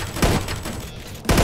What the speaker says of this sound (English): If you shoot the bombs on his chest, then he explodes and you get more points